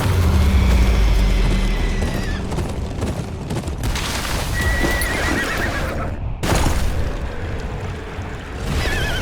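Horses neigh and whinny loudly amid galloping hooves and rumbling commotion in the video game Game of Thrones: Kingsroad, with sharp bursts of noise breaking through.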